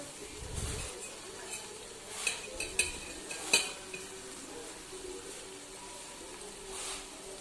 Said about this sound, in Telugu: ఇలా వేసుకున్న తర్వాత పూర్తిగా మళ్ళీ ఒక్కసారి కలిపేసుకోవాలి.